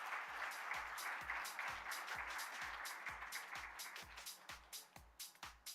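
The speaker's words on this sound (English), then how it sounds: "A big round of applause." Audience applause at an education conference in a large hotel hall, a full, continuous patter of clapping that fades into slower, more distinct claps, heard from a distance and fairly quiet, with no talk.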